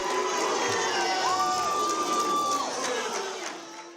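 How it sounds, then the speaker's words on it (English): Crowd in a room reacting with loud cheers, shouts and whoops, with a sustained whistle-like tone rising above the noise before it tapers off. "The crowd reacted."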